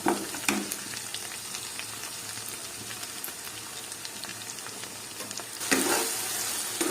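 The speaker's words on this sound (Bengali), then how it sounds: "এরপর আমি আদা রসুনের পেস্টটা" Ginger garlic paste fries with onions in a chicken curry base, giving a soft, continuous crackling sizzle with scattered pops. The sizzle swells briefly near the start and again toward the end, and no one speaks.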